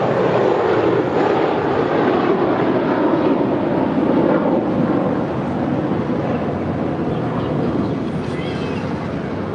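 An American Airlines airliner takes off from runway 25 right at LAX, its engines making a loud, steady broadband roar that holds throughout.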